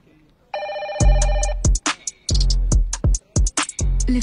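A telephone rings with a repeating electronic bell tone, loud and close, in a comedy scene from the Telugu film Kalyanam Kamaneeyam; people talk over and between the rings.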